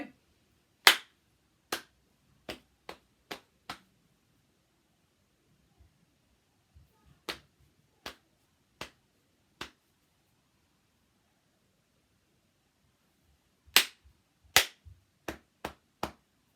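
Sharp single claps in short rhythmic patterns for a clap-back game, close and crisp, with isolated hits, a cluster of quick beats near the start, a few spaced claps mid-way and another burst near the end, separated by silence.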